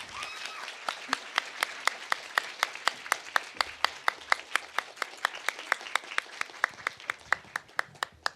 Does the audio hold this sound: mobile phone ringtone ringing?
no